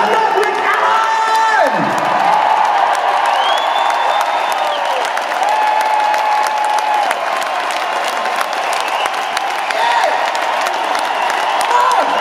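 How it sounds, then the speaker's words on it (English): A large rock concert crowd at London's Royal Albert Hall applauds, cheers and whoops loudly for a band member, a dense sustained roar with shouts and whistles rising through it. "he deserves a round of applause"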